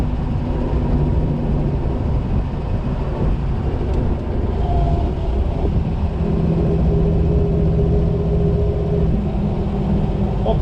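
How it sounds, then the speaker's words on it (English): A fuel-injected 1960 Chevrolet Corvette on Auburn radial tires drives with the top down, its engine a steady low rumble mixed with heavy wind and road noise throughout, continuous and loud. "this car is just far too enjoyable to drive without having the top down"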